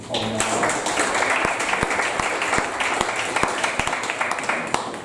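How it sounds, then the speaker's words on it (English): A room full of people at a board meeting applauds steadily, with sharp individual claps standing out through the continuous patter. "Can we give a round of applause for Gary Dunn?"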